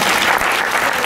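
Applause from a live audience at a stage reading show, a brief, loud and continuous wash of many hands clapping together.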